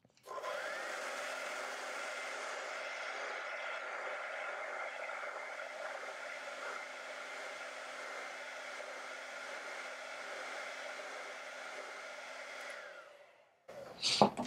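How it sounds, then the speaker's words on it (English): A hair dryer blows steadily over wet acrylic paint on a window box painting, a continuous close whooshing hum for about thirteen seconds before cutting off, followed by a brief clatter. "So let's dry that real quick and then fix those flowers."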